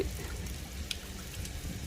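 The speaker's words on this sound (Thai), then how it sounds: "น้ำไหลลงท่อมันช้า" Water in a village water-supply settling tank trickles slowly down into a pipe clogged with sand and mud, a soft continuous wash with a faint drip.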